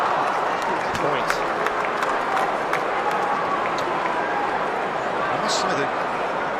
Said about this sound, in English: I must say that crowd noise is sensational, isn't it?